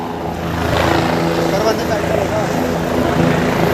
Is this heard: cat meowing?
no